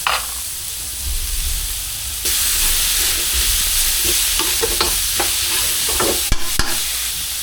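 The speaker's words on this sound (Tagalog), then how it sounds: "Gisa na natin yung sibuyas at bawang." Chopped onion and garlic sizzle in hot oil in a pan, a steady frying hiss that grows louder partway through, broken by scraping stirs and a few sharp clinks of a utensil.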